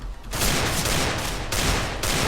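Gunfire in the CS:GO video game, loud, dense and continuous automatic fire, a rapid unbroken burst close up that begins after a short quiet moment.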